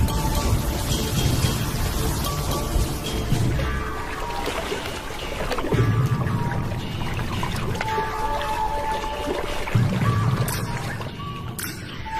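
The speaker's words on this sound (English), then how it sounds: "The first real rains for a year." First heavy rains of the year falling in the African wilderness, a steady close pouring and splashing of water with trickling drops and occasional low thuds, continuing throughout at a fairly even level.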